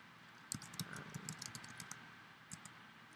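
Keys tapped on a computer keyboard while tabbing between entry fields, a handful of soft irregular clicks spread across a few seconds, close by and moderately faint with a quiet hum underneath.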